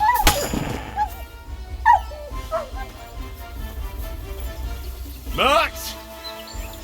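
Mutt the dog in Kingdom Come Deliverance 2 gives a few short barks and whimpering yelps, one near the start, others scattered, and a louder burst late on, over a steady game ambience.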